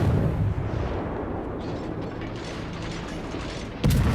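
The Russian destroyer Leningrad fires its guns in World of Warships, with a series of mechanical gunfire bursts and clattering over a rumbling background, ending in a sharp loud blast at the close; no talk.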